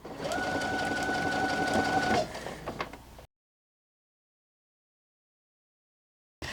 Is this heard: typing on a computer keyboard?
no